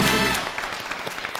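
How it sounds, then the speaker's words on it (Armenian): Audience applause bursts loudly for singers Vache Yeritsyan and Silva Hakobyan at a TV show final, then thins into scattered claps over about a second and a half. "Բարձր ծափարենք Հայաստանի լավագույն երգիչներից մեկին"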